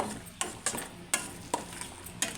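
Toor dal chutney being stirred in a pan after tempering, a spoon scraping and clicking against the metal in sharp irregular strokes over a faint background sizzle.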